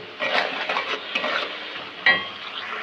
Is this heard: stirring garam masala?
yes